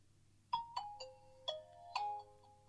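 A short electronic power-on jingle of five bright chiming notes from a Nokia 110 4G mobile phone, played alone over a faint background hum.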